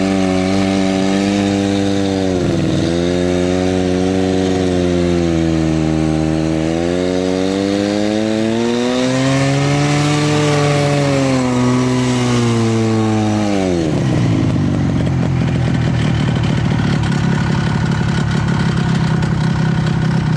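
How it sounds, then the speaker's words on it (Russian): A snowmobile engine drones loudly and close while riding over snow, its pitch rising and falling with the throttle through a long swell, then settling into a rougher, steadier roar. "На снегоходе стороной объезжаю."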